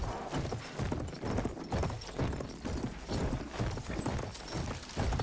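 Horse hooves clip-clop at a steady trotting rhythm in the video game Battlefield 1, close and continuous with mechanical rattling alongside.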